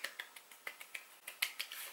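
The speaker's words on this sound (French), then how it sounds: "donc on applaudit s'il vous plaît" A single person claps by hand about a dozen times in a quiet room, light, crisp and fairly evenly spaced, soft and close, with no talk over it.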